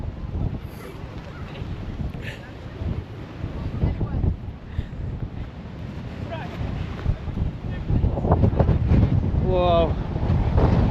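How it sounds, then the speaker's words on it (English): Strong gusts blow hard across an exposed hilltop on Arthur's Seat in Edinburgh, roaring and buffeting the microphone in loud, uneven waves, with people talking faintly beneath it. "The wind's really quite intense up here."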